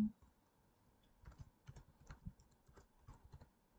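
Quiet computer keyboard typing, a short burst of light, quick keystrokes close by in an otherwise still room, as a project name is entered.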